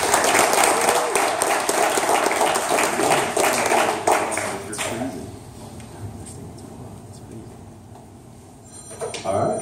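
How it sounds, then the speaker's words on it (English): An audience applauds at a morning 1 Million Cups gathering in Daytona Beach, dense clapping for about five seconds that thins out and fades, followed by quiet room tone and a brief noise at the end. "round of applause for David."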